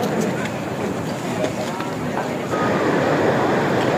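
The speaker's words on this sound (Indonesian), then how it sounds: "Itu tuh ombaknya kayak muter gitu loh guys." Waves roll and churn below the cliffs at Kelingking Beach on Nusa Penida, Bali, heard as a steady broadband wash with wind buffeting the microphone, swelling slightly louder toward the end.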